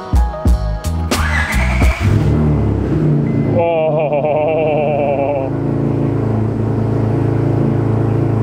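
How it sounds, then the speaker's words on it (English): A turbocharged V6 Honda Accord with a custom exhaust fires up from cold: a few sharp cranking pulses, then a loud, raspy, steady high idle that stays close and dominant with no talking. "Cold start's still loud as hell."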